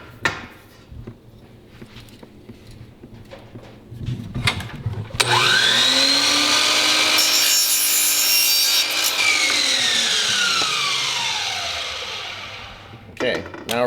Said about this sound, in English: or we usually cut it on the chop saw.